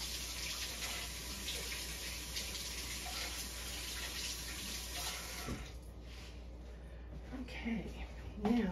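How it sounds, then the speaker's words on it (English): A kitchen faucet running steadily while hands are washed partway through making cheddar cheese balls, a continuous close rush of water that eases near the end with some splashing and handling sounds. "I'm going to wash my hands again real quick"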